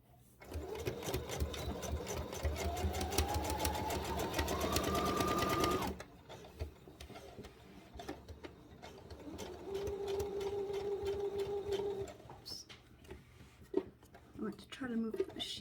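A sewing machine stitches two fabric pieces together, right sides facing, in a close, steady rapid whir for about six seconds, then quieter intermittent running and handling noises while a person talks.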